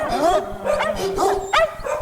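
Puppies used as a sound effect in a radio ad, several quick high-pitched yips and barks in a close, continuous flurry filling the short stretch without talk.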